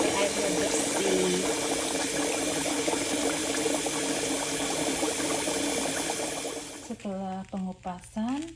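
Continuous sloshing and rattling of soybeans being washed in water for homemade tempeh, then a voice speaks at the end.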